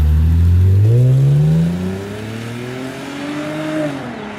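A Lexus IS250 with an HKS Hi Power aftermarket exhaust revs up loudly with a deep, throaty tone, its pitch rising, then settles into a lower rumble that swells slightly again.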